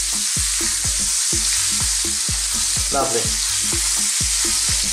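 Flipped sardines fry loudly in a pan, with a dense steady sizzle and a regular pattern of soft taps and scrapes. A brief spoken word cuts in partway through.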